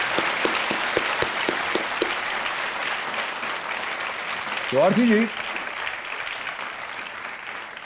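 A studio audience on the KBC quiz show breaks into applause for a contestant: a few sharp claps at first, then a steady wash of clapping, with someone speaking briefly over it.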